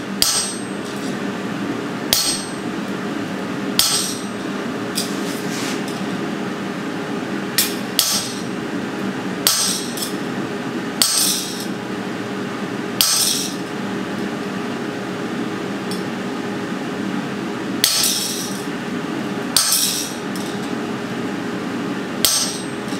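Hammer blows strike a metal sunflower to set in a fuller line, sharp ringing impacts landing at irregular intervals of a second or two over a steady hum of shop ventilation.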